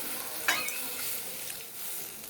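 Mustard paste for a hilsa fish curry cooks quietly in a pan with a low, continuous sizzle and bubbling. A short scrape of stirring comes early on.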